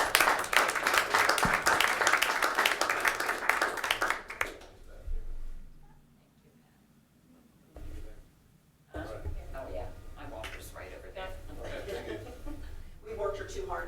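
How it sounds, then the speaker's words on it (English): Applause at a city council meeting, a loud burst of crowd clapping for about four seconds that cuts off into near silence, followed by people talking and chuckling. "So a round of applause for the champions."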